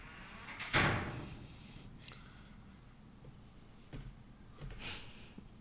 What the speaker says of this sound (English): Shutting a door. And it was very creaky.